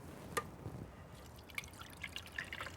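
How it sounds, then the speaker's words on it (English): Wet paper pulp with sparkles poured into a colander strainer over a towel, faint scattered drips and soft trickling under a quiet room hiss, with a few sharper droplet ticks. "Now we're ready to pour it into our colander strainer once again."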